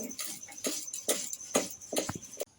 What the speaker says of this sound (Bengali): এই দেখুন বন্ধুরা এবার আমি এই ভাজা মশলাটা বেটে নেবো